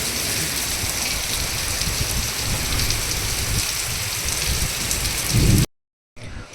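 Steady heavy rain pours down during a strong, windy storm, a dense continuous hiss that runs loud for several seconds before cutting out abruptly and briefly resuming.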